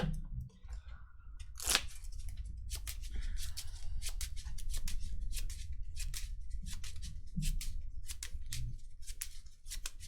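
Playing cards being shuffled during a KeyForge tournament match, with a run of rapid, crisp riffling clicks over steady low room noise and no talk.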